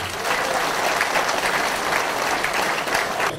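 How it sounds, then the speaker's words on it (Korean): Attendees at a South Korean political party's founding meeting give a vigorous round of applause to approve a motion, a loud, dense, even burst of clapping sustained throughout. "여러분 힘찬 박수로 뜻을 모아주시기 바랍니다"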